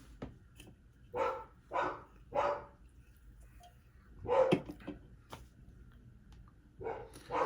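A dog barks repeatedly indoors, sharp woofs in uneven bursts spaced about a second apart with a louder cluster midway, fairly quiet and alone against a soft room background.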